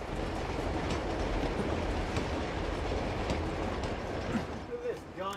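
A moving train from the video game Uncharted 2 gives a dense, continuous rumbling roar with faint rhythmic clacks, steady and loud throughout, with a brief squeal near the end.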